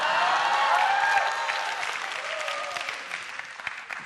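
Audience applause fills a studio lecture hall at a Korean talk show event, a dense, steady clapping that stays loud throughout and tapers slightly toward the end.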